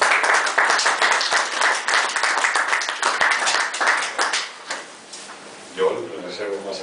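Audience applause at a book presentation, a dense patter of clapping hands that thins and fades toward the end as a voice begins talking over it.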